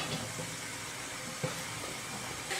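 Kozhukattai dumplings steaming in an idli pot give off a steady, soft broadband hiss that runs unbroken, with a faint clink near the middle and another toward the end.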